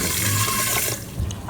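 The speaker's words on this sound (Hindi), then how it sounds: "पानी के 2 कप शामिल करेंगे।" Water pours steadily from a cup into a pot to make sugar syrup for gulab jamun, a close continuous splashing rush that thins out near the end.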